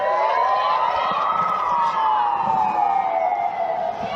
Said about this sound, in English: It's like an ambulance with a weird siren noise is coming every now and then.